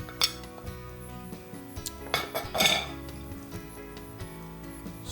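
Spoon scraping and clinking against a pot while cream cheese pasta sauce with chicken and crumbled bacon is stirred, a few scattered clanks over a low background hum, no talking.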